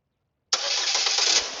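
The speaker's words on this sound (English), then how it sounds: "It does have remote engine start." A 2015 GMC Terrain Denali AWD engine starts by remote start, catching abruptly after silence and settling into a steady, close, fairly loud idle with no voices.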